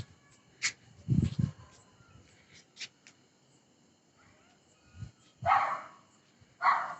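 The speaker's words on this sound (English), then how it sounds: "Why this dog is actually barking a lot?" A dog barks in short separate bursts, a few low woofs early and louder higher barks later, spaced by quiet gaps in an indoor setting.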